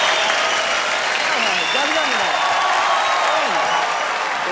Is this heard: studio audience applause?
yes